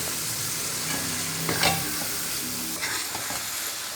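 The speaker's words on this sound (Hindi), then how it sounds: "अब इसके अंदर डाल देते हैं आलू, क्योंकि आलूओं को थोड़ा सा पहले फ्राई करेंगे।" Potato pieces fry with spices in a hot pan, a steady close sizzle running throughout while a spoon stirs them, with brief scraping flares, and no talking.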